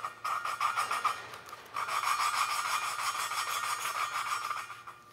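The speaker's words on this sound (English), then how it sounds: "you take this little suction cup tool, put it on the valve, and spin it as such" Engine valve lapped by spinning a suction cup tool against its seat with grinding compound, a rapid back-and-forth gritty rasping that pauses once briefly and is heard up close.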